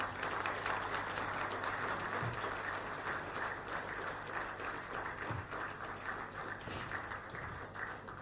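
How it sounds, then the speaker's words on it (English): Sustained applause from a seated audience at a session with an Indian Union Minister, a dense, even patter of many hands clapping continuously throughout, moderately distant in a large hall. "our language is the language of clapping only"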